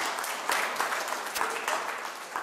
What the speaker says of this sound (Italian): Applauso pure per lei, volete?